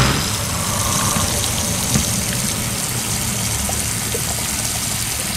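A One Concept mini washing machine runs its rinse cycle, with continuous rushing, splashing water and a low motor drone close by, steady throughout.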